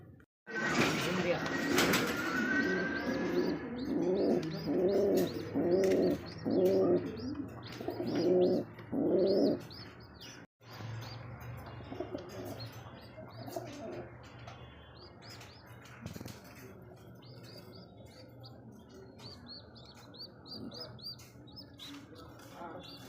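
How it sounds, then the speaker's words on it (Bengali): Young racer pigeons coo in a series of rhythmic, throaty pulses, close and fairly loud at first, then fading. Light chirping and background noise continue afterward, and voices talk faintly in the surroundings. "এত সুন্দর হাইফ্লিং বাচ্চা রেসার কবুতর ওভার লাইট"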